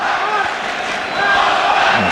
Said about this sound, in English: there's a lot of chanting for the All Blacks going on